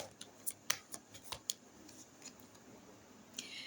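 Tarot cards drawn from a deck, a faint scatter of quick card clicks and light snaps in an irregular rhythm, close and quiet with no speech.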